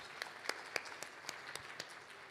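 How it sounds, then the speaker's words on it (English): Audience applause at the India Maritime Week conference: a faint, distant patter of scattered hand claps, with several sharper individual claps standing out at a loose, uneven rhythm. "really a big clap"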